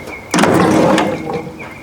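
An old tractor engine, left out in the weather for years and full of water, cranks over in a single sustained burst of roughly a second and a half, with a wet, gargling churn from the air cleaner.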